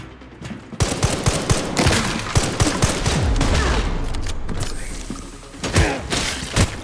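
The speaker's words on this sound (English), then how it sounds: "I guess I could try to shotgun it." A shotgun fires in Resident Evil Requiem, with loud repeated sharp blasts and mechanical clacks in quick succession over a rumbling game backdrop.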